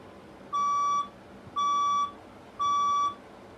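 Fire alarm test sounding three evenly spaced electronic beeps, each about half a second long, steady and clear against a quiet room background.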